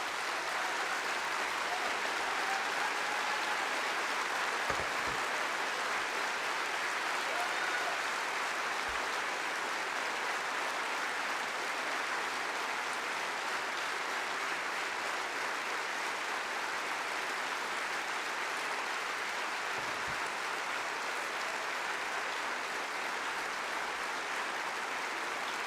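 A large party conference audience applauding in a hall, a dense, steady wash of clapping that holds at full strength without pause for over twenty seconds.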